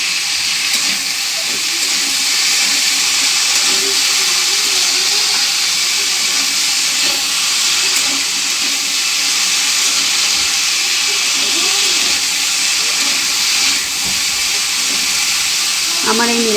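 Cauliflower sizzles and hisses steadily in hot oil for a vegetable curry with beans, potatoes and carrots, a loud continuous frying under occasional light stirring.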